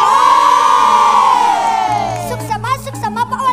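Crowd cheering and shouting at a children's gong kebyar parade performance in Denpasar, loud and close, with a sustained high whoop fading into scattered voices and chatter.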